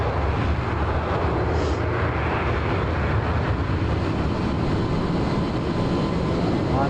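An aircraft engine in Microsoft Flight Simulator during an RAF virtual formation flight, a continuous, even drone that fills the whole stretch without any talking.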